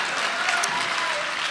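A hall audience breaks into steady, dense applause at a poetry recital, many hands clapping together in a continuous wash with no single claps standing out.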